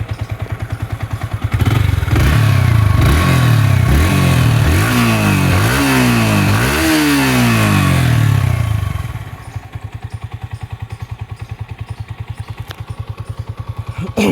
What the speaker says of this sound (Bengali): আপনারা ইঞ্জিনের সাউন্ডটা শুনতে পারতেছেন খুবই চমৎকার সাউন্ড